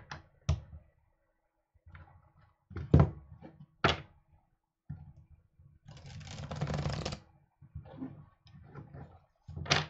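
Tarot cards being shuffled, with scattered taps and thumps followed by a longer riffling burst. The sounds are close and come in uneven bursts, with no voices.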